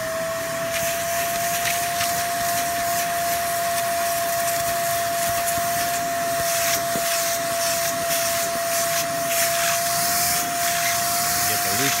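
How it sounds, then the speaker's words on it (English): Vacuum cleaner working over the Alcantara interior of a Lexus IS300, a steady close whine with a constant tonal hum and broadband hiss running unbroken and loud throughout. "And then you can follow up with the vacuum."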